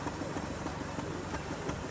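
A miniature steam traction engine runs steadily at an outdoor steam and country fair in Bedfordshire, its continuous mechanical chuffing and rumble filling the soundscape with a dense, even wash of noise.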